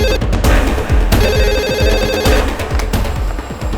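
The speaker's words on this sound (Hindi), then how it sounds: "रिंग जा रही पर उठा नहीं रहे।" A telephone rings repeatedly without being answered, its shrill bell bursts sounding in a regular rhythm, close and loud, with no one speaking.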